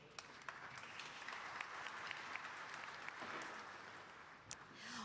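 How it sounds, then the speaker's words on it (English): Conference audience applauding panelists at an energy conference in Namibia, a sustained round of clapping in a large hall with a few sharper individual claps near the end. "please give a round of applause to my panelists"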